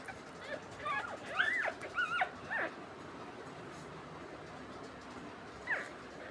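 Puppies whimper and yip in a few high, thin bursts while their mother feeds them, quiet and close, followed by a pause and one more brief whine.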